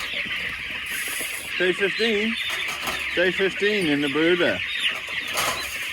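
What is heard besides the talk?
chickens clucking in a brooder at feeding time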